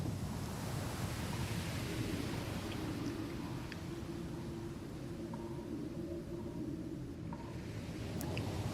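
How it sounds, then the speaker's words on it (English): Ocean waves roll and wash continuously in a broad, steady roar, with breezy wind noise over the surf. "Listen to the sounds. Sounds of crashing waves."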